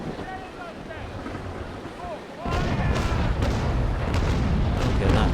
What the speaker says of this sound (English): They're blooming big waves there.